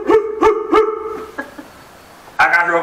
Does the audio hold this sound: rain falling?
no